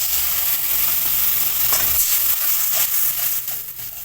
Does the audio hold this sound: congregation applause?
no